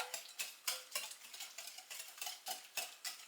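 A spoon stirs zucchini bread batter mixed with sugar and light olive oil in a bowl, giving quick rhythmic scraping strokes about three per second, close and soft, with no voices.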